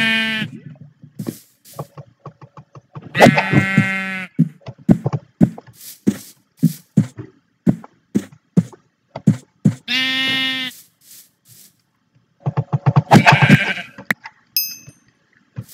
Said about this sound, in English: I need to find some sheep very badly right now.